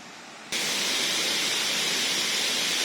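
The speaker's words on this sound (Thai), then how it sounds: "เสียงน้ำตกดังสู้ ๆ เลยนะ" The Huai Mae Khamin waterfall in Srinagarind Dam national park roars as a loud, steady broadband rush that swells in abruptly after a quieter half second and then holds constant.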